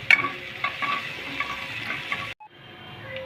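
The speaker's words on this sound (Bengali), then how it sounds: "চিলি ফ্লেক্সটা দিয়ে ভাজবো।" Chili flakes fry with reddened ginger and garlic for red chili baby corn, a soft sizzle with scraping stirs that drops to near-silence near the end, followed by faint low hiss.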